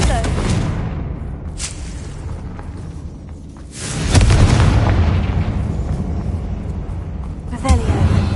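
A Confringo fire spell from Hogwarts Legacy bursts with a low booming blast near the middle, followed by rumbling after-effects, with sharper pops and game effects around it.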